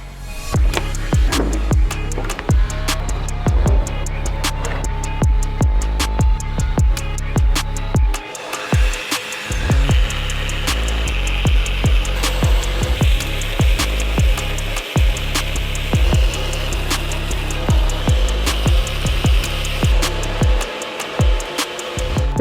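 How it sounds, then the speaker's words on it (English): A belt grinder shaping the round ball pommel of a zweihander sword, grinding loudly and continuously up close, with repeated sharp contact bursts and brief pauses as the metal is turned against the belt. "we're then going to grind the balls all around, make them round"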